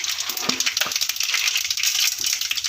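Mustard seeds and chana dal sputter in hot oil in a pan, giving a close, steady crackle with a few sharper pops.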